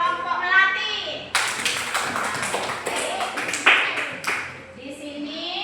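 A classroom of schoolchildren claps for a student group, a burst of rapid clapping in the middle with children's voices and talk around it.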